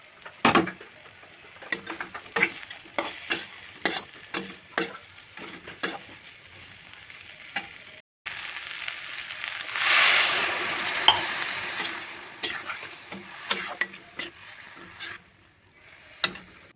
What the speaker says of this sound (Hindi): और मसालों को हम अच्छे से ढक ढक के भून लेंगे।